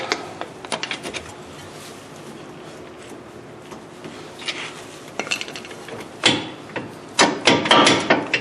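A screwdriver is levered against a front wheel hub part on a 2003 GMC Jimmy, with scattered metallic clinks, scrapes and ratcheting clicks up close that grow denser and louder toward the end.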